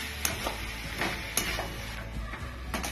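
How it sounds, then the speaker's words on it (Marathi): Masala rice stirred in a pan over a slow flame, a soft sizzle with a few light scraping strokes of the spoon at intervals, close and fairly quiet. "आता हे मस्त स्लो फ्लेमवरती पाच मिनिटं हलवून घ्यायचं"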